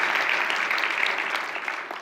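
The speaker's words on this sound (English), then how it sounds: "If we could shower him with applause." Audience applause at a university talk, a warm wash of many hands clapping in a hall, fairly loud at first and gradually easing off over a couple of seconds.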